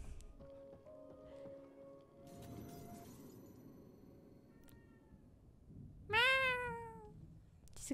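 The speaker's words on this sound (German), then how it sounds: "Diese Katze, ey." A cat meows in the horror video game The Evil Within 2, a single loud, rising and falling meow near the end after quieter ambient tones and rustling.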